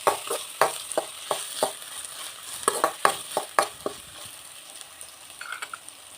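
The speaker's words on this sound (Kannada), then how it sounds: "ಇವಾಗ ಒಂದು 5 ಮಿನಿಟ್ಸ್ ಫ್ರೈ ಮಾಡ್ಕೊಳ್ಳೋಣ" Onions and curry leaves fry in a pan for chickpea usli, a steady sizzle broken by a rhythmic run of sharp spatula scrapes and clinks, close up with no talking.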